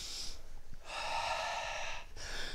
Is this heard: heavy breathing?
yes